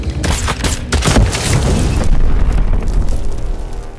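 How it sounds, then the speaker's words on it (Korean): An explosive struck by a stray bullet blows up in a forest monster scene from a student-made short film, a loud rolling boom preceded by sharp bursts and followed by a long fading rumble. "우연히 챙긴 폭발물이 아리아의 눈먼 총알에 맞아 괴물을 처치한 상황"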